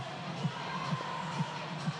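A full-capacity baseball stadium crowd of over 13,000 in Louisville on an evening, a distant steady murmur with rhythmic faint thumps recurring about every half second.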